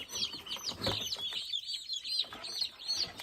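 Chickens and young chicks on a small farm cluck and peep in a steady stream of soft, close calls, with a brief lull midway before the chatter resumes.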